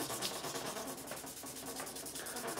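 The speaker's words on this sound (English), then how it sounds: "I'm just going to go across and just basically remove all the burrs." Sandpaper rubbing across the fret wire of a Stratocaster kit guitar to remove burrs; a steady, soft scratchy hiss of back-and-forth strokes, faint and close, with no voices.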